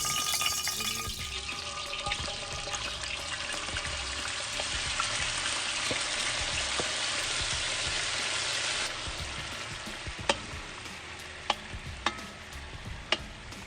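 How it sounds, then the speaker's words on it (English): Food frying in a pan until crispy on both sides, a steady broadband sizzle with occasional stirring clicks, close and loud with no voices. "So we just lightly fry them and make them get crispy on both sides"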